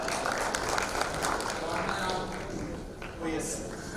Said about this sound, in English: With a thunderous round of applause, let's welcome CEO Dr. Harish Gupta